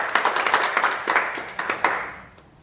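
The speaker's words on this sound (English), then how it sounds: "Big clap yourselves." A small group of karate students gives themselves a brief round of clapping after a white-belt drill, with sharp, uneven claps close by that quickly thin out and stop.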